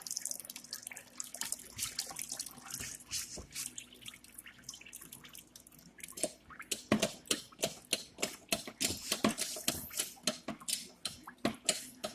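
Apple cider runs from a cider press in irregular drips and splashes, quiet at first, then turning into a quicker, louder, rhythmic patter of drops. No one speaks.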